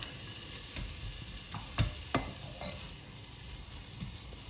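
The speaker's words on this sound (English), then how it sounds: "So your onions are getting transparent and edges are getting caramelized now." Onions caramelize in a pan for chicken soup with vegetables, giving a soft, steady sizzle. Two or three sharp scrapes of stirring stand out, all quiet and close with no speech.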